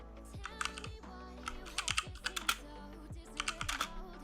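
Typing on a computer keyboard during a software tutorial, with quick bursts of crisp key clicks separated by short pauses and no talking.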